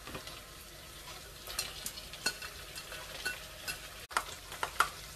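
Smoked pork belly sizzles quietly in a pan with a steady crackling fry, broken by scattered scrapes and clinks from stirring.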